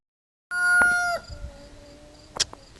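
Single rooster crow at an off-grid outdoor building site, a loud drawn-out call near the start that trails into a fainter tail, followed by a sharp knock.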